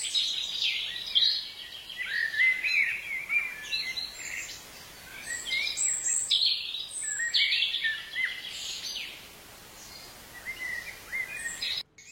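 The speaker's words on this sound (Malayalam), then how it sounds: "കിളികളുടെ ഇങ്ങനെ സൗണ്ടും ഒക്കെ ആയിട്ട് ഭയങ്കര രസമുണ്ട്" Several birds chirp and whistle in bright, overlapping bursts inside a forest in the early morning, fairly close and with no other sound over them.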